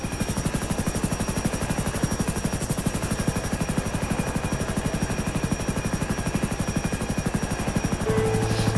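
A helicopter in the video game GTA 5 thumps with a fast, steady rotor chop and engine whine, loud and continuous throughout, with a brief shift in tone near the end.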